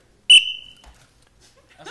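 A referee's whistle is blown once at an improv match, a sharp loud blast that fades out over about half a second, followed by near silence and faint room noise.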